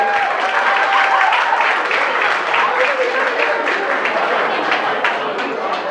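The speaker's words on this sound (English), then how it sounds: "so round of applause for them" Loud, dense applause from guests at a 50th birthday celebration, a continuous crowd clapping close and full, with faint voices and cheers mixed underneath.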